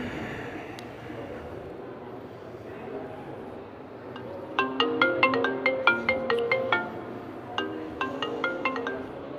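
A phone ringtone plays a bright, repeating electronic melody that starts partway through and chimes several times in quick succession. Before it begins, there is only quiet room background and no speech.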